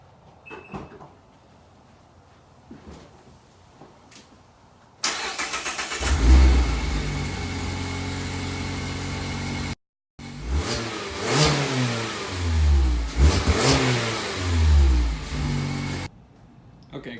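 A 2019 ND Mazda Miata's engine cranks and cold-starts loudly through the stock exhaust, settling into a steady rumbling idle, then cuts briefly before restarting with revving bursts from the nearby exhaust.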